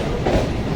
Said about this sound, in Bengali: ট্রেন ঢুকছে এই মুহূর্তে